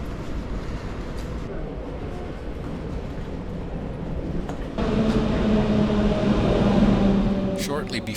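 A passenger train rumbles into Warsaw East station in Poland, a broad continuous roar of wheels and engine that swells louder partway through, with a faint tonal whine and brief squeal near the end.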